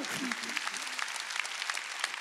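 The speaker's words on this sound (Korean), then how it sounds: "박수 치라." Congregation at a Korean church Sunday service claps hands together, a fast run of sharp claps over a faint voice at the start.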